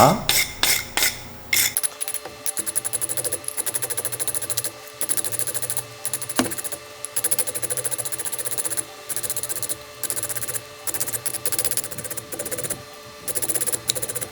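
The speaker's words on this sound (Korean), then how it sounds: "이 쇠 브러쉬로 어, 아, 한번 카본을 닦아주는 것도 중요합니다." Rapid, scratchy metallic scrubbing of a wire brush cleaning carbon off a Honda Super Cub spark plug electrode, close up, in repeated bursts with brief pauses between strokes.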